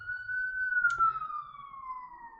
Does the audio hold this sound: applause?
no